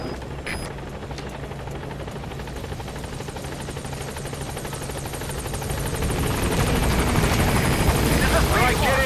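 In the Metal Gear Solid V video game, a helicopter approaches a landing zone with a continuous rotor thrum that grows louder toward the end, with brief radio chatter heard at the start.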